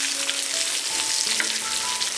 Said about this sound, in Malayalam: ഇനി നമുക്ക് നന്നായിട്ട് വഴറ്റാം